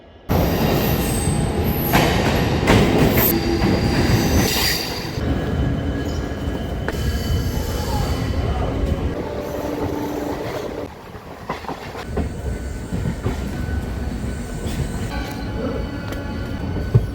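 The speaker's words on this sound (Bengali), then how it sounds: "আমাদের লোকাল ট্রেন কিছুক্ষণের মধ্যে চলে আসে" A local train rolls in at a station in Odisha, loud and close, with rumbling wheels, clattering rail joints and squealing brakes that ease off and then build again.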